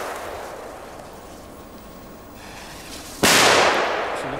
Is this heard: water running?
no